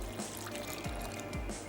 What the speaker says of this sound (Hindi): थोड़ा सा मैं इसमें और पानी शामिल कर देती हूँ।